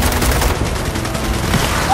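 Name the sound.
gunfire in the video game Gears of War 4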